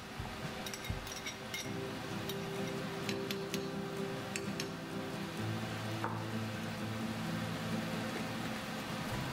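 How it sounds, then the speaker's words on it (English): Vegetables sauté in a pan while cooking a chicken and rice dish, with a soft steady sizzle and occasional clinks and taps of a utensil, fairly quiet and continuous. "There's the rest of our veggies. We're gonna start sauteing now."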